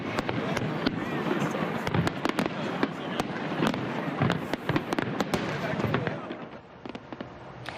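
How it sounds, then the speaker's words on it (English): Massive fireworks display over Toronto at night, a rapid barrage of sharp bangs and crackles from a distance, with faint crowd voices underneath. "A massive 10-minute-long fireworks display lit up the night sky"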